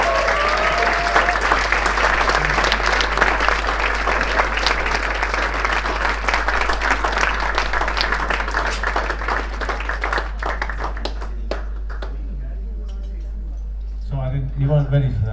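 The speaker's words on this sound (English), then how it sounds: "Can we have a round of applause for Asa Winstanley?" An audience at a dinner with speeches breaks into sustained applause, a dense wash of clapping that thins and fades after about ten seconds, then a voice begins speaking.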